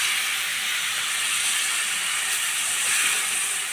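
Water poured into a hot pan of tomato and spice masala for egg fry gives a loud, continuous bright hiss that holds steady for a few seconds with no voices.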